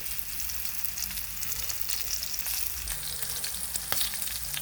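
Sliced chayote fries sizzle steadily in hot oil, a dense close crackle with occasional stirring clinks, no voices.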